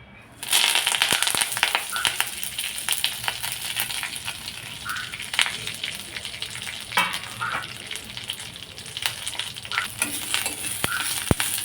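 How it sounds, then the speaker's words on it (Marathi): Curry leaves roast in a spoonful of oil in a kadhai, giving a steady, close sizzle and crackle with scattered sharp pops and the occasional scrape of stirring, continuing throughout. "ते एका कढईत 1 चमचा तेल घेतलं आहे आणि त्यात हा आपण कढीपत्ता भाजून घ्यायचा आहे."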